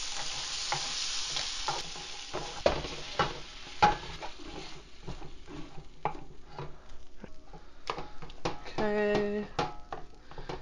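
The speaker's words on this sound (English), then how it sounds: "Cooked pasta, cooked shrimp and zucchini, creme fraiche, the juice of 2 lemon wedges, stir to combine." Cooked pasta, shrimp and zucchini with creme fraiche and lemon juice being stirred in a pan, with a constant sizzle under repeated utensil scrapes and clanks, close up and without speech.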